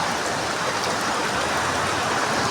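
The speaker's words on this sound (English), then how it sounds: "Crazy rainfall." Heavy monsoon rain pours down in Sikkim, India, a dense, steady hiss of water with no breaks, loud and close.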